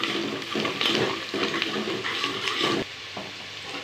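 Sliced onions fry with dried red chillies and kasuri methi while being stirred, giving a close, continuous sizzle with soft scraping pulses from the spoon.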